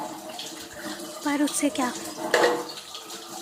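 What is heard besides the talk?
cold tap water running while washing dishes in the sink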